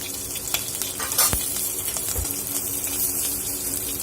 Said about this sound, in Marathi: छान आपल्या मिरच्या भाजून घ्यायच्या आहेत